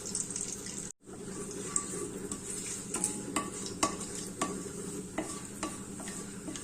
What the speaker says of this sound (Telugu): ఇంగువ వేసుకున్నాక కొద్దిగా అంతా కలిపేయండి